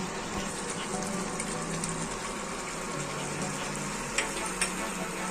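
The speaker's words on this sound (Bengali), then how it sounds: "এখন আমি এর মধ্যে টমেটো সসটা দিয়ে দিচ্ছি।" Tomato sauce goes into a pan of browned mutton, raising a steady sizzle and bubbling hiss close by, with a couple of sharp clinks near the end.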